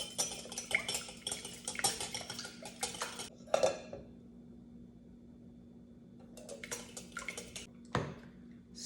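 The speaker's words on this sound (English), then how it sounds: "I'm gonna use the whisk this time." Two eggs being beaten with a whisk in a bowl for a pumpkin pie, a quick rattling clatter of metal against the bowl in bursts, pausing midway and then resuming, close and fairly quiet.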